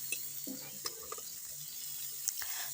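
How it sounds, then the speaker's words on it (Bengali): Eggplant stir-fried with turmeric and salt, a soft, close sizzle with a few light spatula clicks and scrapes against the pan, quiet and without talk. "বেগুনটা দিয়ে তারপরে একটু হলুদ লবণ দিয়ে নাড়াচাড়া করব"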